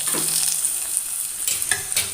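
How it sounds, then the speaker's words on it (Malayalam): Mustard seeds, green chillies and curry leaves fry in hot coconut oil for a chena theeyal, giving a steady close crackling sizzle with a few sharper pops and light stirring scrapes throughout, no voices. "ഇനി നമുക്കിതൊന്ന് വറുത്തിടാം നമുക്ക് വറുത്തിടാം വെളിച്ചെണ്ണയിലേക്ക് കടുകും പച്ചമുളകും കറിവേപ്പിലയും കൂടി"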